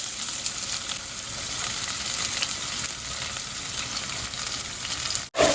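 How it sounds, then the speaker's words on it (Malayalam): Chopped onions sizzle in hot oil in a pan, giving a steady, close hiss of frying that runs alone and unbroken before a brief cut near the end. "സവോള ആദ്യം നമുക്കൊന്ന് ഇട്ട് കൊടുക്കാം."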